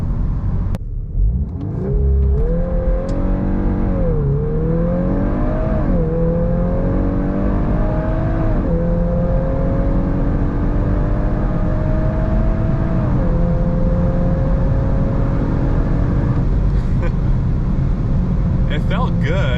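A 2023 VW MK8 Golf R with a Stage 1 tune accelerates hard, its engine note climbing and dropping with each smooth gear shift, loud and close throughout.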